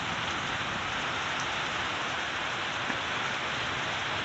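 Heavy, steady monsoon downpour in Bijnor, India, roaring continuously, dense rain hammering surfaces with no letup and no voices.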